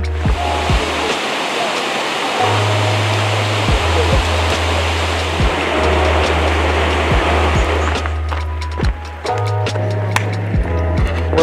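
A waterfall on an Australian road trip roars as a dense, steady rush of falling water, loud and close throughout, with low rumbling tones and scattered clicks and knocks over it.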